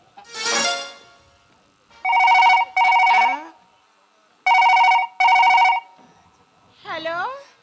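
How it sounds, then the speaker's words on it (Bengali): A telephone rings in two double bursts separated by a pause, with short voice sounds before and after. "টুম্পা কোথায় আছে ফোনটা করা যাক"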